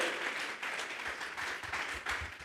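A congregation at a Sunday church service claps together, a steady, moderately faint wash of applause with swelling pulses and no talk over it.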